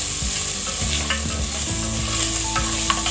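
Beef pieces stirred in a pot while browning for Kenyan pilau, with a steady, close sizzle of frying meat and repeated scraping stir strokes throughout, no voices.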